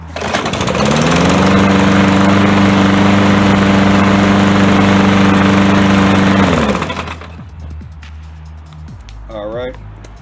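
Troy-Bilt TB200 150cc lawn mower engine running after a cold start: a loud, steady close-up drone that cuts off abruptly, followed by quieter talking and small handling noises.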